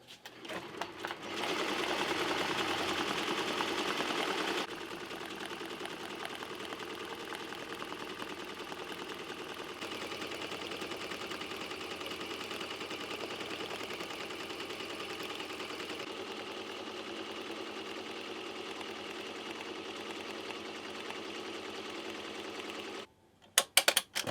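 A hat embroidery machine stitches continuously, a rapid, even mechanical chatter that stays close and steady throughout, shifting slightly in tone between sections before stopping at the end.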